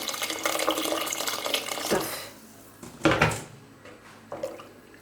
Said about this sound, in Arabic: وانا كنحرك غادي نشوف شحال غادي نزيد ديال الماء